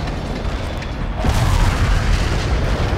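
A mortar strike in the World in Conflict video game explodes as a deep, rumbling boom that swells partway through and keeps rolling with heavy low-end noise and debris, with no talk.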